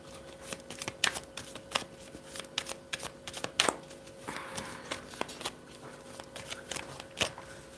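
Tarot cards being shuffled and pulled during a reading, giving a run of crisp riffling and snapping flicks at close range, with brief pauses between bursts and no talk.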